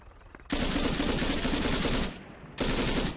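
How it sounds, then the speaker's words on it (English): Rifle gunfire in the video game Arma 3: two long, loud bursts of rapid shots, the first lasting about a second and a half, then a short break before a second burst. "I'll take a few more pot shots just in case I get him."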